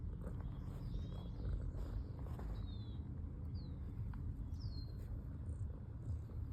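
A pet cat purrs up close, a steady low rumbling throb that runs unbroken throughout, with faint bird chirps in the background.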